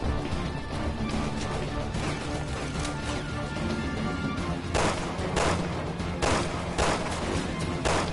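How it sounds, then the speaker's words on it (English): Flashbang grenades and gunfire in the video game Resident Evil 6. A dense, steady roar of combat runs throughout, broken by several sharp bursts toward the end, with no one talking. "Oh, those flashbangs, man."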